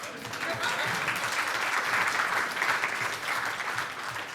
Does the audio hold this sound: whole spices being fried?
no